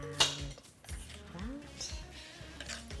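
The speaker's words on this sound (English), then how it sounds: "So I'll stir that in" Spoon stirring peach slices into gluten-free peach cinnamon sugar muffin batter in a bowl, with repeated scraping and clinking against the dish, and a light tap near the start.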